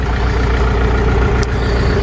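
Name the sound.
Scout 404 tractor engine while plowing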